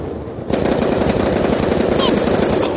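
Rapid automatic gunfire in a shooter video game, a loud continuous burst that starts abruptly and rattles on without pause to the end.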